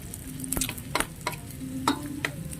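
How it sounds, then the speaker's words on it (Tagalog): Chopped garlic sautéing in a hot pan: a steady, close sizzle and crackle with a few sharp stirring scrapes, and no one speaking. "Sautay muna natin yung bawang."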